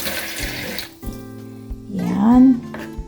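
Water from a kitchen tap splashes as vegetables for pinakbet are washed, a loud close rush that cuts off, then soft knocks, and a voice talks near the end.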